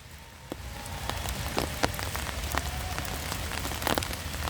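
Rain patters and taps steadily on surfaces at a feeding spot on a wooded hillside during a heavy rainstorm, with scattered louder drops close by and no talking.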